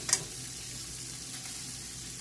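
Shrimp and garlic frying in a regular frying pan for shrimp tacos give a steady, even sizzle throughout, with a brief sharp tick near the start and no talk.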